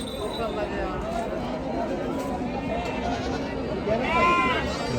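Sheep and goats, including horned sheep, Osmanabadi and local breeds, bleat in a crowded livestock market in Chakan, repeated calls rising over a dense hubbub of chatter and nearby voices.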